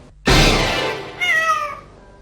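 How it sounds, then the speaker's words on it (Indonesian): A cat gives two loud, close meows in quick succession, the first long and harsh, the second shorter and more tonal, in a quiet room without speech. "bikin kaget aku aja kucing ini"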